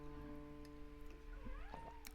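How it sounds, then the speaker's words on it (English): A pet cat gives a few faint, wavering meows, fairly distant, over a steady electrical hum at home during a live acoustic music stream. "Uh-oh, that's my cat."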